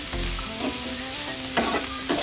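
Dumpling filling being stirred in a hot pan after a splash of soy sauce, with steady sizzling and a few scraping strokes of the spoon, close and loud with no talk.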